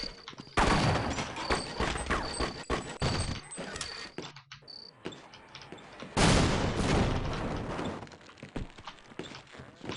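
Grenade jumping in the Half-Life mod They Hunger brings loud, dense bursts of explosive blasts and gunfire, a short quieter gap, then another heavy blast and rumbling, with no talking over the action.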